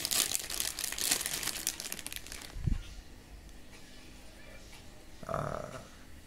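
A plastic packet holding a USB Type-B cable crackles and crinkles loudly while being torn open during a Bluetooth helmet headset unboxing. A soft thump follows, then a brief rustle near the end.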